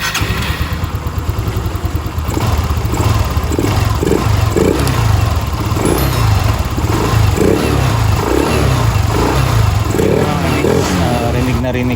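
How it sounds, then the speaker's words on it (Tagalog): A Yamaha Mio Mxi scooter engine fitted with a mushroom air filter, revved repeatedly in rhythmic throaty pulses with an intake roar, loud and close over a steady idle, with speech heard over it. "magsa-sound check tayo dahil may malaking magbabago in regards sa tunog ng ating engine"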